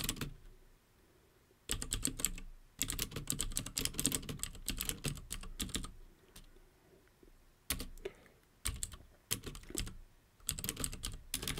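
Typing on a computer keyboard while writing code, dense bursts of close, crisp key clicks separated by short pauses, fairly quiet overall with no voices.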